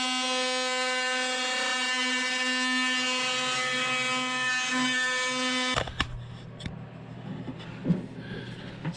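A high-pitched power tool whines steadily and loudly for several seconds while cutting back bubbled paint on a steel boat hull, then stops abruptly, leaving scraping and clattering handling noises.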